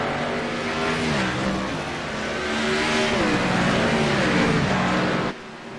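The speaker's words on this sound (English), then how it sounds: "These cars are flying around this track, and they look awesome." Race cars in the Relentless Racing Series roar around a racetrack, engines droning and shifting pitch loudly as several pass close by, the din cutting off sharply near the end.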